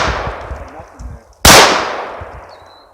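A single sharp, loud gunshot at an outdoor shooting range, its blast ringing out and decaying, preceded by a quieter pop and low murmuring voices.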